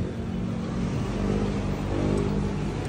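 A supercharged Kawasaki ZH2 motorcycle engine revs in a steady, dense roar, close and loud, holding for about three seconds with a slight swell near the end.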